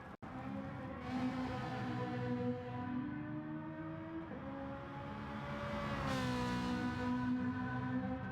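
A Ferrari 458 at speed on the Goodwood sprint, its engine note loud and near, rising through revs in long sweeping pulls with a brief lift between gear changes.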